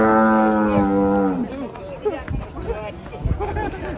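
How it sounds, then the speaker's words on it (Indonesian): Several agitated cattle moo loudly, one long drawn-out bellow up front followed by shorter overlapping calls and shuffling, close by with excited voices talking over them. "Sini banyak sapi ngamuk guys"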